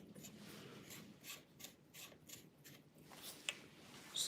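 A free marker's cap being twisted shut, giving faint, close rasping and scratchy rubbing strokes in a quick irregular series, with a couple of small plastic clicks near the end and no talking.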